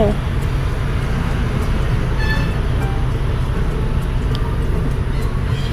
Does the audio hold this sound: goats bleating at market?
no